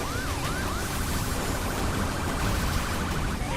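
A police car siren wails in pursuit of the player in the racing game The Crew, its rising and falling tone sweeping repeatedly over a steady, loud engine and road roar, with no talking.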